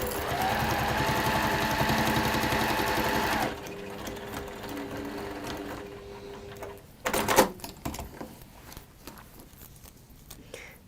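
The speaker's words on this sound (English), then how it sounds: "So you can stitch down, around, and then stitch up if you want." A sewing machine stitches fabric in a steady, loud, continuous whir for about three and a half seconds, then stops, leaving quieter clicks and handling noises.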